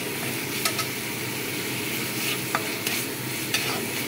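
Spice masala for chana dal sautéing over a medium gas flame, a dense constant sizzle with occasional scrapes and taps of a spoon on the pan, up close and without talk.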